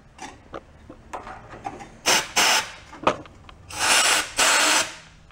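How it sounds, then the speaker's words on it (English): An air gun blasts compressed air through the transmission passages of a VW bus, with several loud, hissing bursts of about half a second each, close up, set among quieter clanks and handling noise. "I'm gonna take an air gun. I'm gonna blow through those passages."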